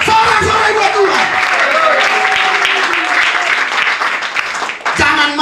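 Pentecostal congregation cheering and clapping during a worship service, a loud, dense, sustained roar of applause and raised voices that stays steady throughout with a brief dip near the end.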